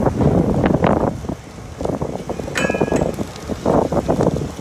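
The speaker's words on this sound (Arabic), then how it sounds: "الرياح قوية كتساهم كذلك في اشتعال النيران رياح قوية" Strong wind roars in gusts across the microphone at a forest fire in Beni Hassan forest, Tetouan province, a loud continuous buffeting rush with short crackling bursts.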